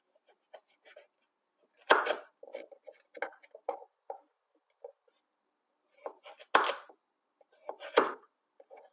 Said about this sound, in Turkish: havuçlarımı da şu şekilde doğruyorum